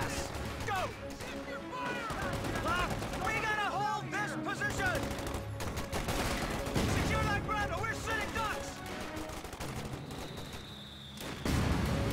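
Machine gun fire in Company of Heroes 2 erupts in rapid bursts and scattered shots amid battlefield crashes and explosions, loud and dense throughout, with voices shouting over the fighting.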